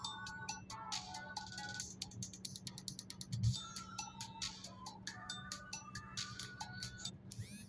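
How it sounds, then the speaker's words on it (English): A phone ringtone plays faintly in the background as a repeating electronic melody of short chirping notes, steady across the clip with no speech over it. "My phone is ringing."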